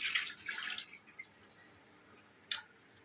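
Washing under running water in a kitchen: a short burst of splashing at the start, then quiet dripping and a brief second splash, fairly soft and close.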